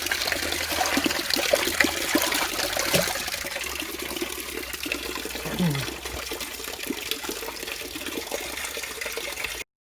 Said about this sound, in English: I'm just pouring the last bit of hot water into the bucket